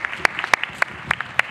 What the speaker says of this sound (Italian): che fa un applauso.